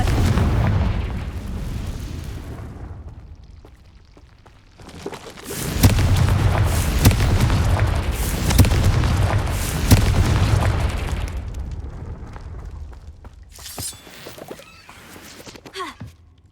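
Confringo spells explode in Hogwarts Legacy. A deep rumbling blast fades out, then a loud, dense stretch of booming bursts and crackles follows, and another surge comes near the end. No one talks.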